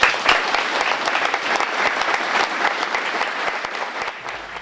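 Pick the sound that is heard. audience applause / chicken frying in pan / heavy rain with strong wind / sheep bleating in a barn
audience applause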